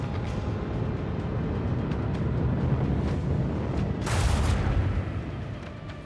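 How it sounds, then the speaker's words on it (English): Lance batteries fire a volley in the video game Warhammer 40,000: Rogue Trader, a booming, roaring burst swelling out of a dense, continuous rumble of ship combat. "Lance batteries, volley."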